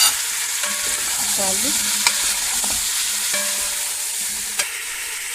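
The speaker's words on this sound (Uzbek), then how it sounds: "Hozir yaxshilab qovurib oldik." Chopped onions fry in a pan for an Uzbek soup, a loud steady sizzle with occasional scraping and clinks as a spoon stirs them, close and continuous, with a few brief spoken words.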